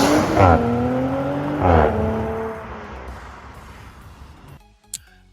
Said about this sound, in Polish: nie jest wyposażony w filtr GPF, dzięki czemu wydech brzmi naprawdę bardzo, bardzo ładnie i bardzo soczyście